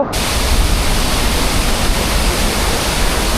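A hidden waterfall near Khopoli, swollen after heavy rain, roars as a loud, dense, unbroken rush of falling water, close and steady throughout with no voices.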